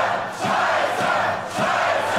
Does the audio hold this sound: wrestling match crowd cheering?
yes